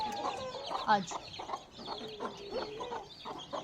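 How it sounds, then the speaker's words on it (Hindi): Chickens, including a black hen and a white rooster, cluck repeatedly and close by in quick, uneven bursts, with brief voices mixed in. "अच्छा इस नस्ल की मुर्गी भी लड़ती है।"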